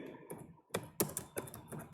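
Typing on a computer keyboard, quiet bursts of sharp key clicks in an irregular rhythm, close and alone with no talk.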